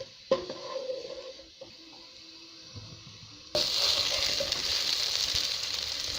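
Onions crackle and sizzle in hot oil, quiet at first with a stir or two, then a louder steady hiss of frying.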